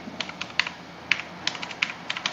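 Rapid, irregular keystrokes on a computer keyboard during an FTP server exploitation exercise with Metasploit, close and fairly quiet, with short bursts of clicks and a few louder strikes over a low room hum.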